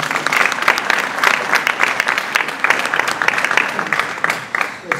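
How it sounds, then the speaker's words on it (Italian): At the award ceremony for the Fano carnival 2020 national photo contest, an audience breaks into lively, full applause with crisp individual claps throughout, loud and close. "un applauso a tutti voi"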